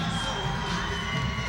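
Basketball arena crowd at a Halifax Hurricanes versus London Lightning NBL Canada game, a steady distant wash of cheering and shouting from the stands, fairly faint and sustained with no distinct peaks.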